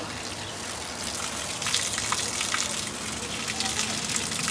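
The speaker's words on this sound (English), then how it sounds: "It is water." Water gushes steadily outdoors during children's water play, a continuous bright spray that swells slightly midway, with faint voices in the background.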